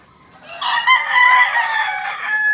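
A gamefowl stag of the Pumpkin Hatch line gives a single loud, close crow that rises and holds for about two seconds.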